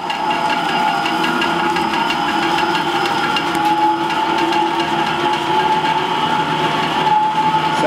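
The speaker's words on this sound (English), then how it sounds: "Sounds like it's still spooling up." A lathe motor driven by a variable frequency drive spools up after years out of use, giving a loud, steady mechanical whine and hum with a high tonal ring that holds throughout, with no talking.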